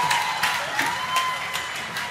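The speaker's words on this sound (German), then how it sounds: "Applaus für Marlon." Brief, steady crowd applause for a person on stage at Gamescom, a dense wash of many hands clapping fairly close, with light cheering mixed in.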